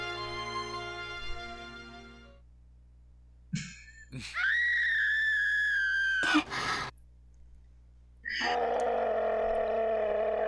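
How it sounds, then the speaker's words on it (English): Cartoonish screaming voice effects in the Chibi-Robo video game, several loud, sustained, tonal shrieks separated by short silences over a faint background hum. "I like the screaming sound effects."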